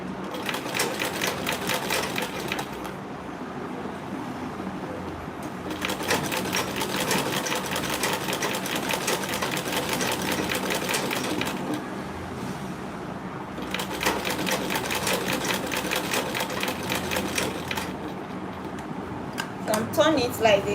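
Sewing machine stitching a small grocery tote bag in three long runs of rapid, even needle clatter, separated by short pauses, close by with a voice speaking over it.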